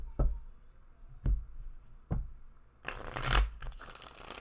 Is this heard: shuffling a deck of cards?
yes